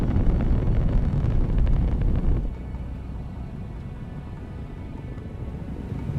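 A rocket carrying the Cassini spacecraft to Saturn thunders after clearing the tower, a dense, loud, wind-battered roar that drops to a steadier, softer rumble about two seconds in.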